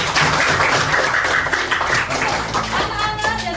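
Children clap their hands together during a classroom lesson, a dense, steady patter of many palms that runs the whole time at fairly close range, with faint voices mixed underneath.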